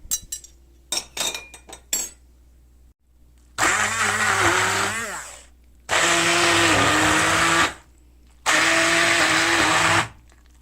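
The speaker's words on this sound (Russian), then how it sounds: "И сейчас я буду взбивать." Blender whipping raw liver into pâté, running in three loud bursts of about two seconds each with short pauses between, the motor whine rising and falling as it churns; a few brief clinks and knocks come first.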